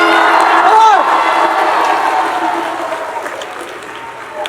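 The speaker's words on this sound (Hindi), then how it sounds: "आपने अभी भी तालियां गलत जगह बजाई है।" Applause from an audience at a school poetry recitation held in a pandal: a burst of clapping that starts loud and gradually thins and fades over a few seconds, with a few whistles near the start.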